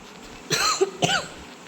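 Two sharp coughs about half a second apart, close and fairly loud, the second slightly weaker, from a person with a chesty cold, with quiet room background and no talk.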